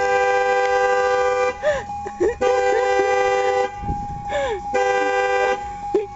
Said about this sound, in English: figured out how to press the horn